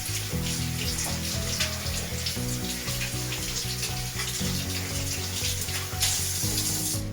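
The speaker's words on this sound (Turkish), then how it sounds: "ikinci basamağımız kollarımızı dirseklere kadar yıkıyoruz" Tap water runs steadily into a sink while the arms are washed up to the elbows during ablution, a continuous splashing stream over a low tonal hum with no voices.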